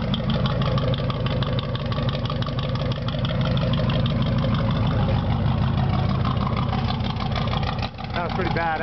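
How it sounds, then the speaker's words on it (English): A 1994 Chevy truck running on propane, straight piped, idles loud and close with an even, throbbing exhaust rumble that holds steady throughout, dipping briefly near the end. "Real smooth running engine."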